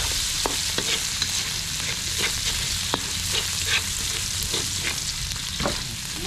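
Garlic frying in a pan for a coconut-flower dish, a steady loud sizzle with scattered sharp clicks and scrapes of stirring throughout.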